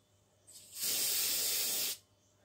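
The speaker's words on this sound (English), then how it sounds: "I sprayed a little bit" A single spray bottle burst in front of a mirror, a steady, close hiss lasting about a second that starts with a brief puff and cuts off sharply, alone, with no talking.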